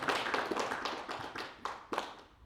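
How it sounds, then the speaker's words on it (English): A small group gives a round of applause after a speaker at a business presentation, several uneven bursts of hand claps and taps rising and fading over a couple of seconds, fairly faint and close. "the round of applause after I spoke was louder than the first one"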